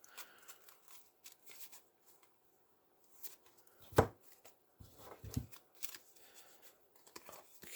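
Yu-Gi-Oh trading cards drawn and handled for test hands on a table, giving quiet scattered rustles and snaps with a sharper slap midway, no talking.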